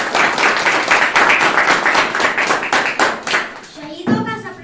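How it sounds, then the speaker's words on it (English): Crowd of children and adults clapping for a class 6 student stepping up to give a Hindi speech at a school Republic Day celebration, dense steady clapping that thins out near the end as a voice begins. "Clap for him."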